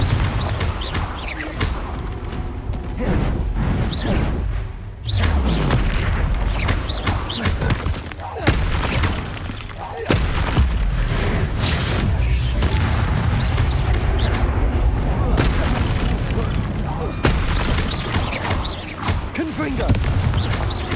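Confringo blasting spells explode in a video game, a series of loud booms and crashing impacts with rumbling aftermath across a long stretch, broken by short quieter gaps, with a voice talking at times.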